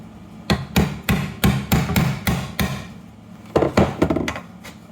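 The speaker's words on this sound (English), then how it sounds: "this is a really sharp chisel, and I'm going to use the hammer to get it started" Hammer blows land on a sharp chisel set into wood, a run of six or seven firm, evenly spaced strikes, a short pause, then several quicker taps, all close and loud with no talking.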